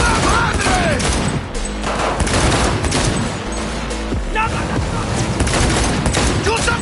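Gunfire in the video game Cyberpunk, dense bursts of rapid shots and booms that stay loud throughout, with game character voices shouting over the firefight.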